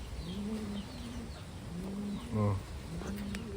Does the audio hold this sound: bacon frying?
no